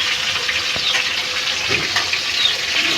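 Onions frying in hot oil give a steady, even sizzle that holds throughout, with a brief soft clack near the start and no talking.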